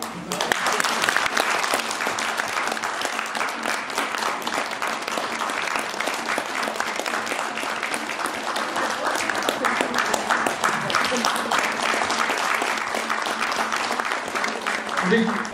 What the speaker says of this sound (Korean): 여러분 다시 한번 1회 선배님들한테 박수 한번 부탁합니다.